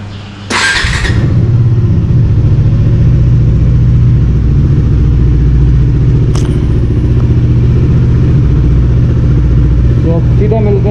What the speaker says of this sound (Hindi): बाइक को करते हैं जरा कोल्ड स्टार्ट।